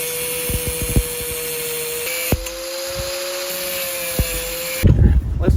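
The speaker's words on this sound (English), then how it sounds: "Over here on the vise, I'm just cutting some notches in the pipe so it'll fit on there without sliding." A pipe held in a vise has notches cut into it with a power tool, producing a steady high whine with short sharp bursts and a louder rough grinding burst near the end, up close and with no talking.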